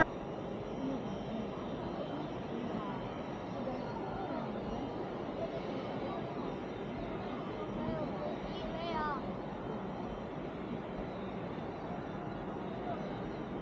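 Jet airliner engines roar steadily at Guangzhou Baiyun Airport as a plane taxis and takes off at night, a continuous broad rumble with people chattering faintly in the background.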